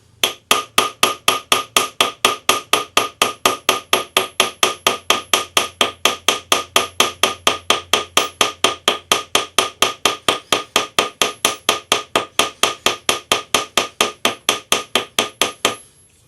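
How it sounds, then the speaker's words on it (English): The small polished end of a chasing hammer strikes metal on a little bench anvil to pattern a pendant bail, a long run of sharp, evenly spaced metallic taps, about four per second, close and loud with no talking. "we're just going to put our pattern on by using the small polished end of a chasing hammer"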